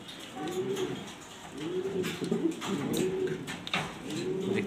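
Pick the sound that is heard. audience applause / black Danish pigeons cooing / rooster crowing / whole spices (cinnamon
black Danish pigeons cooing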